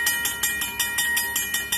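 Rapid, evenly spaced clangs from a 2003 Safetran mechanical railroad crossing bell ring out close and loud, each strike leaving a bright lingering tone, with no voices over it.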